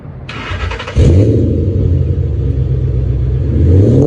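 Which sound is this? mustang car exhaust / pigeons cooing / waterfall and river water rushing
mustang car exhaust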